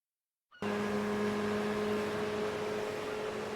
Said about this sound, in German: wo kommt denn das Motorgeräusch jetzt her?